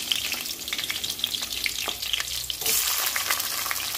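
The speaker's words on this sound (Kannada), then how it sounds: "ಒಣಮೆಣಸಿನ್ಕಾಯಿ ಹಾಕ್ಕೊಳ್ತಾ ಇದ್ದೀನಿ, ಸ್ವಲ್ಪ ಖಾರ ಬಿಟ್ಕೊಳ್ಳಿ ಅಂತ." Dried red chillies and garlic frying in hot oil for bisi bele bath, a steady crackling sizzle with scattered pops that grows denser and louder partway through, close and alone with no talking.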